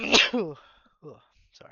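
A single sharp, close sneeze bursts out at the start, then a person speaks briefly.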